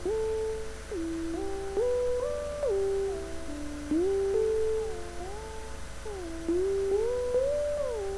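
Synthesizer notes from ZynAddSubFX in LMMS glide between pitches with fixed portamento, forming a smooth, steady melodic line of sliding tones that play alone without any voice.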